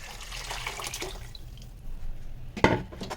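Water trickles and splashes into a pan at close range, a steady gentle pour that swells into a louder splash near the end.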